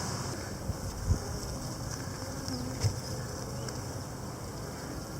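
Honey bees hum in a steady, faint drone at a hive being opened for inspection two weeks after a nuc was installed, with occasional louder passes of single bees near the microphone under light wind noise.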